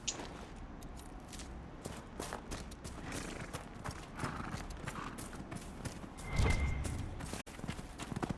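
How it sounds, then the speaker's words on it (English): Hoofbeats from ram mounts in the video game Dragon Age: Inquisition clop steadily like horses throughout, with a brief whinny-like burst near the end over a busy game ambience. "These rams sound like horses."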